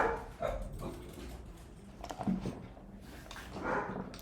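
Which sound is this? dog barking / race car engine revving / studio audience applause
dog barking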